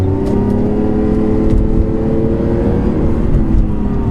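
Lamborghini engine under hard acceleration, a loud, steady, rising roar with layered harmonics filling the whole clip and no talk over it.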